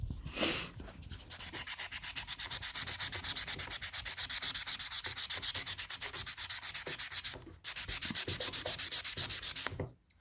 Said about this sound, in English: I'm just buffing that product into the nail.